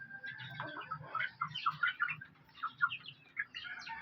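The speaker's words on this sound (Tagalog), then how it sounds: "Upgraded native chicken." Upgraded native chickens perched up high give soft, irregular chirps and clucks, moderately close and fairly quiet, with low murmuring underneath and no clear speech.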